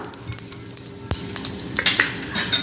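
Mustard seeds with urad dal and chana dal crackle and sizzle loudly in hot oil in a kadai, close up, with scattered pops and a brief metallic clink.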